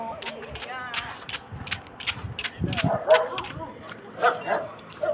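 A dog barks and yips in short bursts amid an excited jumble of voices, with scuffling movement and chatter throughout.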